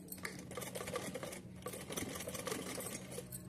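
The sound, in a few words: sewing machine stitching cotton cloth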